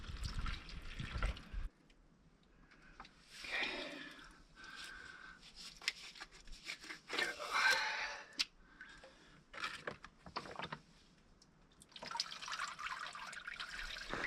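Water from a desert canyon pothole trickles and splashes into a Gatorade bottle as it fills, in uneven pours and drips with short pauses, close by and moderately loud, with no talk.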